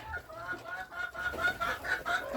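Several chickens cluck and murmur close by in a soft, continuous chatter, with short overlapping calls and no one speaking, pecking at scattered shell grit, with ducks nearby.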